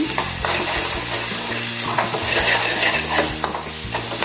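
Chopped onions sizzle steadily in a generous amount of hot oil, with repeated scraping stirs of a spoon against the pan running through the whole stretch; close, continuous and fairly loud, with no talk.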